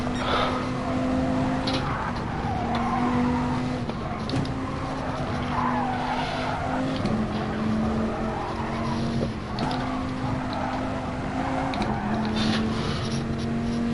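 Porsche race car in GT Sport at a Le Mans manufacturers event, engine droning steadily at high revs with tire skids and shifts in pitch as it curves around the outside, loud and continuous.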